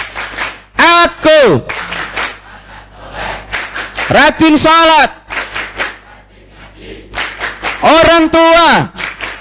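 Schoolchildren at a prayer gathering at a vocational school in Purworejo, Indonesia, chant the "Tepuk anak soleh" clap chant together in loud bursts, clapping in quick rhythmic patterns, with three energetic chant-and-clap phrases separated by short pauses and a leader's voice between them.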